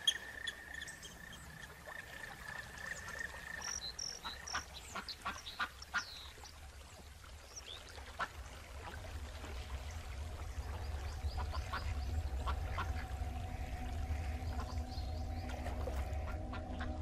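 Ducks quack in scattered bursts near ponds in a winter nature reserve, heard at moderate distance over a low steady rumble and background outdoor noise.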